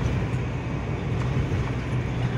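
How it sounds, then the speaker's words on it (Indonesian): Loud, steady engine drone of an Isuzu Panther Hi-Grade 2.3 heard from inside the cabin while driving, a constant low rumble with road noise and no talking. "suara mesinnya tuh keras banget gitu"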